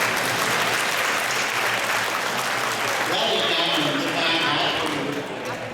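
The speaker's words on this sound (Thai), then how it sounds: "ขอปรบมือให้กับ ทุก ๆ สมาคมและชมรมด้วยครับ" Sustained applause fills a Thai community banquet welcoming a consul general, honoring the associations and clubs, a steady dense clatter of clapping hands with crowd noise underneath throughout.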